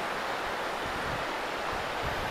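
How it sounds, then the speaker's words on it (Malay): River water at a campsite rushes in a steady, broad wash of noise, fairly loud and unbroken, with no voices heard. "Air dia cantik sungai ni."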